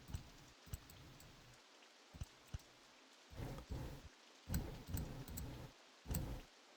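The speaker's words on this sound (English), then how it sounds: "People come to the park and it starts raining again." Rain falling in the RollerCoaster Tycoon computer game, heard as soft patters and bursts of rainfall, mixed with sharp intermittent clicks, at a fairly faint level without talk.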